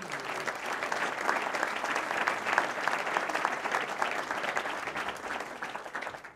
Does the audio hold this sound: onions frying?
no